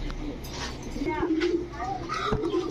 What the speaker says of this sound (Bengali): এখন দেখাবো এক জোড়া সবজি রেসার কবুতর